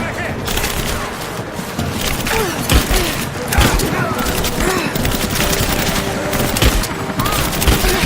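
Rapid video game gunfire in Rise of the Tomb Raider, bursts of shots and heavy booms cracking repeatedly over a busy battle bed, with shouted voices mixed in among the firing.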